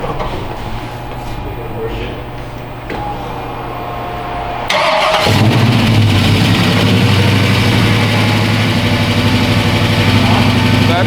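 An LS-swapped Chevy Chevelle V8 fires up for the first time and settles into a loud, close, steady idle, after a quieter rumbling lead-in with people talking over it.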